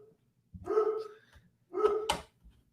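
A dog barks loudly and close by in two separate bursts, each a rough, harmonic bark, with short silent gaps between them and no talking.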